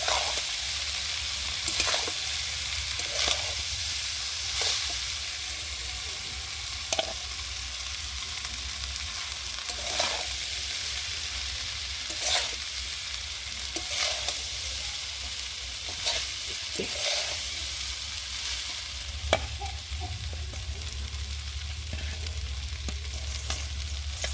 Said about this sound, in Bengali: নেড়ে দিই যাতে তলায় না লেগে যায়।